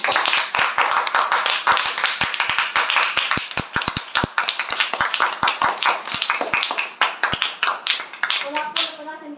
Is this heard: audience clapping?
yes